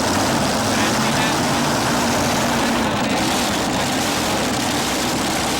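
A four-engine pulling tractor, the rail machine Sudden Thunder, roars at a 1987 tractor pull in Syracuse, a dense, loud, steady engine drone filling the air while an announcer talks over it.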